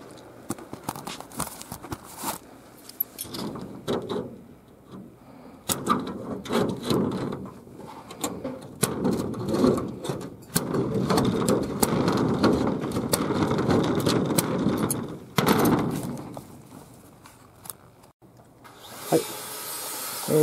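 Corrugated roofing sheet being cut by hand with wave-cutting corrugated-sheet shears, giving irregular bursts of crisp snipping and scraping with short pauses between cuts, close up and without talk.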